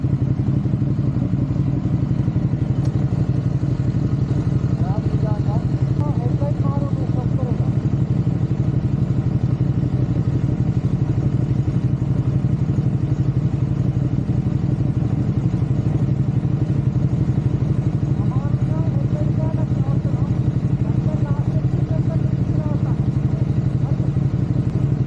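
Ducati Panigale motorcycle engine while riding, a loud continuous low drone with mechanical clatter, heard steadily from close by for the whole stretch.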